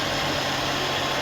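A mixer grinder blends a rice and salt mixture for gluten-free bread, giving a loud, steady motor whir with a churning buzz that holds constant through the short stretch. No voices are present.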